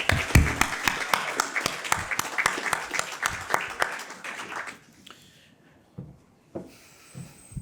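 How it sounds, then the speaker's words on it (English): An audience at a senior NCO induction ceremony at Lajes Field in the Azores gives a round of applause. Distinct claps sound close and clear for about five seconds, then thin out and fade, leaving a few scattered claps and quiet room noise. "Another round of applause, please."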